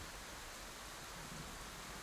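Steady rain falls outdoors in the video game Scarlet Hollow, a soft continuous hiss of drops with no distinct strikes, faint and uniform throughout.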